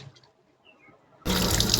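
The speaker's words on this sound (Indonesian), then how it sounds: "Pakai air mengalir juga" A kitchen tap is turned on to wash chicken. After a second of quiet with faint drips, the running water bursts into a loud, steady splashing stream.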